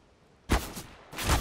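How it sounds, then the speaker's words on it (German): Two loud gunshot bursts from Counter-Strike: Global Offensive, each a sharp crack with a short rumbling tail, about half a second apart, with no voices. "Alter, auf die Entfernung solche Schüsse."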